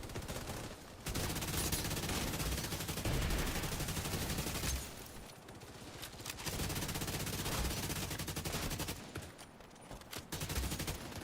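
Gunfire while shooting enemies in The Division 2 video game, with dense rapid bursts of automatic fire continuing almost throughout and only brief gaps between volleys, fairly quiet overall.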